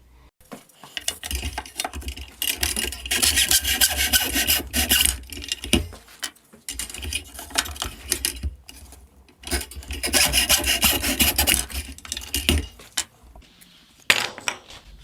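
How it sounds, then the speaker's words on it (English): Simple handsaw cutting wood for a triangle pleat: rhythmic rasping strokes in three long bursts separated by brief pauses, close and fairly loud with no talking. "in this case I will use the simple handsaw to preserve my table saw blade"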